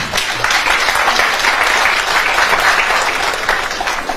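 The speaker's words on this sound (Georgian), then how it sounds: "აპლოდისმენტები" Audience applause fills a theatre hall during a jubilee evening at the Griboedov Theatre, a dense, steady clapping that stays loud for the whole stretch without a break.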